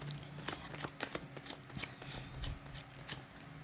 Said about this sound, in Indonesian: sambil saya baca doa dan saya kocok kartunya